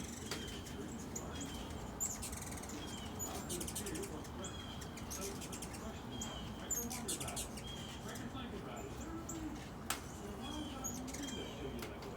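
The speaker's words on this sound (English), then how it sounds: "let's watch these birds for a minute." Birds chirp and tweet outdoors in damp, drizzly weather, with small scattered calls and a few cooing notes over a steady background of rain or ambient outdoor noise.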